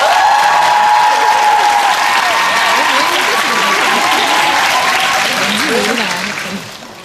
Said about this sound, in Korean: 여러분 큰 박수를 청해 주십시오.